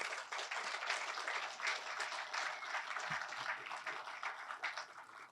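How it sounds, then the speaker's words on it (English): Applause from an audience honoring community award recipients at a city event, a steady wash of many hands clapping that holds throughout without talk. "how about a final round of applause for all of them?"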